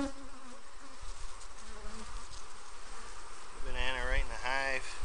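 Honeybees at an opened hive during an inspection give a continuous close buzz that swells louder near the end as the bees get more defensive. Faint bits of a voice come through early on.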